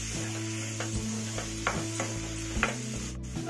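Tomatoes and salt being stirred into a raw papaya curry in a pan, a soft sizzle under a steady low hum, with a few scraping spoon strokes against the pan and no talk.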